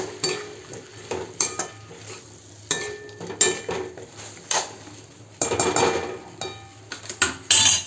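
A steel plate set down over a pan of flat beans and potato, with clattering metal contacts and scraping sounds in bursts, close and fairly loud, no talking.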